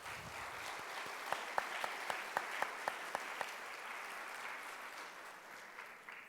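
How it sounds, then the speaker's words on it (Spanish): Audience at a university art lecture gives soft, distant applause, with a few louder, sharper individual claps standing out near the start before the sound fades gradually. "el doctor José Javier Villarreal, por quien pido un fuerte aplauso."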